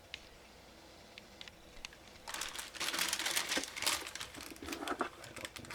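A plastic parts bag from a C6 Corvette model kit crinkles and rustles loudly after a quiet start. Sharp crackles and tearing crinkles come close to the microphone for several seconds.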